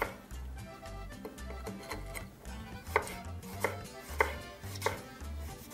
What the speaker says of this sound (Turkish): Domateslerimi küçük doğrayacağım.